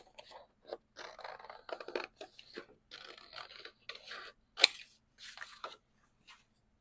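Scissors cut around a printed paper template with a run of short, irregular snips and papery scrapes, close and soft, broken by brief pauses and one sharper crisp cut.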